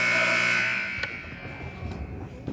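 A basketball game buzzer at a middle school game sounds loudly at the end of the third quarter, a steady electronic tone lasting about a second before fading into gym noise.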